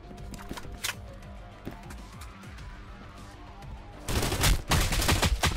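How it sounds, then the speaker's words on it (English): Shotgun blasts in a VR video game battle, a few scattered reports early on followed by a loud, dense burst of rapid fire toward the end. "Another shotgun battle happening?"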